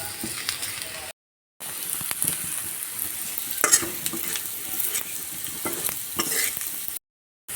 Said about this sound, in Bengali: এবার পেঁয়াজ কাঁকরোল সবগুলো একসাথে ভেজে নেব কিছুক্ষণ